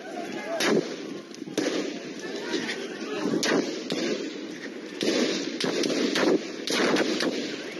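Burst of gunfire in news footage of a confrontation between soldiers and civilians, many sharp cracking shots in quick irregular clusters, moderately distant, over murmuring voices and crowd noise.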